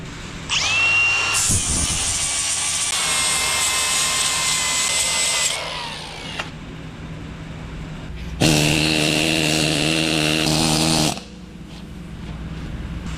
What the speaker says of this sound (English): I'm gonna go ahead and grind that down.